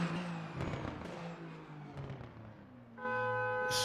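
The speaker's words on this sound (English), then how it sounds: "we're hearing the horns of the cars" Car horns sound at the finish of a Bahrain endurance race in a racing video game, a steady layered horn tone swelling loudly in the last second over continuous engine roar and crowd-like noise.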